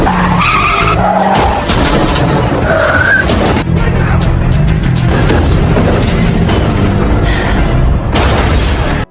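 A film scene pileup, with car tires screeching and skidding amid heavy crashing impacts and booming noise, loud and chaotic from start to finish.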